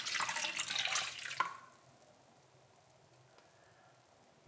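Tap water poured into a bowl holding a face mask for a slime activator, a bright close splashing stream for about a second and a half that then cuts off, leaving near silence.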